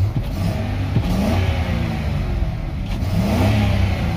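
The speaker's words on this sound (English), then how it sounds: "Let me rev it up so you can hear it." A 2003 Ford F-350XL utility bed truck engine revs steadily and close, a continuous mid-pitched growl that swells and eases slightly with throttle, no talking over it.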